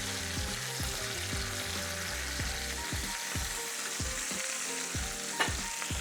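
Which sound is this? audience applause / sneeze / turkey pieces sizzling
turkey pieces sizzling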